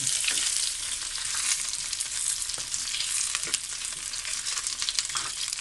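Pork frying in hot oil to make crispy pork, a dense, steady bubbling hiss with small crackles and pops throughout, close and unbroken by any voices.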